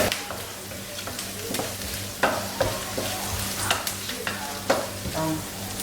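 Onions sautéing in a pan, a steady low sizzle with repeated scraping and knocking as they are stirred, fairly close and without talk.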